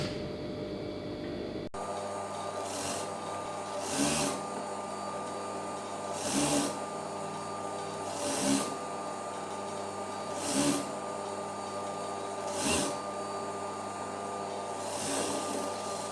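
Sewing machine stitching a blouse lining, with a steady whirring motor hum and soft periodic thumps about every two seconds throughout.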